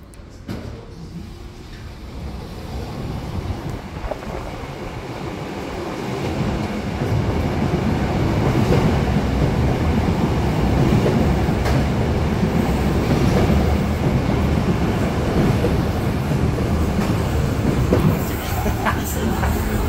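A Berlin U5 subway train of type F76E rides between Hauptbahnhof and Friedrichsfelde, a steady loud rumble of wheels and motors that builds as it gathers speed, with faint voices inside the car.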